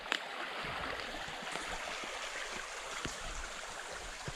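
A river at night flowing steadily beside a campsite, giving a constant close rushing and gurgling wash with no talking.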